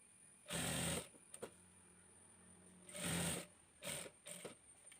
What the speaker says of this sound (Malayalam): ഒരു സൈഡിൽ നിന്ന് സ്റ്റിച്ച് ചെയ്ത് വന്നിട്ട് അവിടെ കൊണ്ടുവരുമ്പോഴത്തേക്കും സൂചി നിർത്തുക, വീണ്ടും ഇങ്ങോട്ട് സ്റ്റിച്ച് ചെയ്യുക.